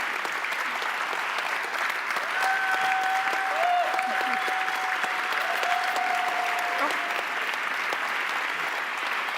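Sustained audience applause at the live closing event of Mindvalley University 2023, a dense, even roar of clapping from a large crowd, steady throughout with a faint tonal hum running beneath it.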